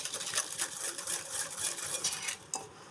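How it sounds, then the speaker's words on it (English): A whisk clinks rapidly against a bowl while egg yolks are beaten with sugar and a pinch of salt, a quick irregular metallic tapping close by with no talking. "to your egg yolks, add 3 tablespoons of sugar and a pinch of salt. And just whisk this around."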